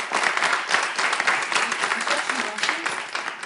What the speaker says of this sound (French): Applaudissements pour Madame Alexia, les amis.